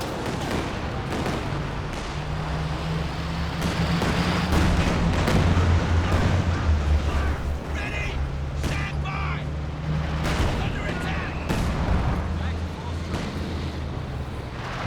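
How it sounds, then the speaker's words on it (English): A creeping artillery barrage in Company of Heroes 2 keeps up a steady rumble of distant and nearer explosions, with scattered bursts of gunfire over a dense, roaring battlefield background. "Just for another creeping barrage."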